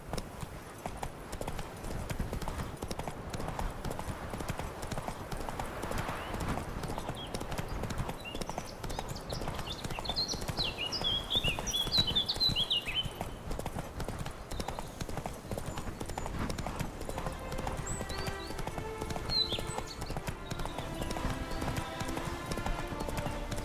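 Roach's hooves pound in a fast, steady gallop through The Witcher 3: Wild Hunt, a continuous rhythmic drumming beneath ambient game sound and faint music.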